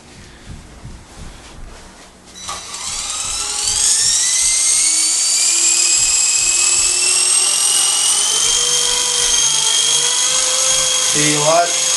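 A Traxxas QR-1 RC quadcopter throttles up in a tight space. Its rotors rise quickly into a loud, high, drill-like whine whose pitch climbs and then holds steady, with a brief wobble near the end.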